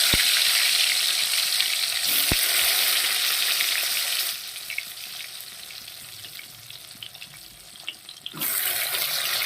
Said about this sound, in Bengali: এদিকে আমি তেল বসিয়ে দিয়েছি প্রথমে পটলটাকে আমি ভেজে নেব